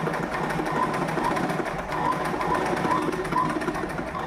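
A sewing machine runs steadily, stitching the seam of a uniform skirt with a continuous, even mechanical whir and no pauses, close and loud.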